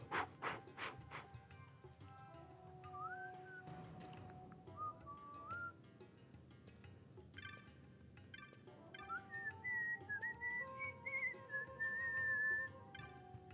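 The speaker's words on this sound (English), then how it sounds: "An actual whistle came out that time." A person whistles a wavering tune, starting thin and tentative, then a clearer, higher melodic line near the end, heard close over soft background game music and faint rubbing noises.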